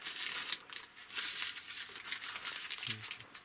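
Soft, continuous crinkling and rustling of paper, close by, with small bursts of louder crackle and no voices.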